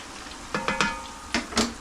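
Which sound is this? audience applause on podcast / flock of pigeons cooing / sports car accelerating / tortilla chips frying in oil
tortilla chips frying in oil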